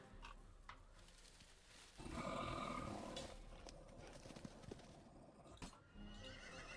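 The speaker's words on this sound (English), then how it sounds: "apparently we've got horses somewhere too" Tabletop game sound effect of horses: a loud neigh and whinny burst over clip-clopping hooves and a low rumbling background, with scattered knocks and a quieter stretch afterward.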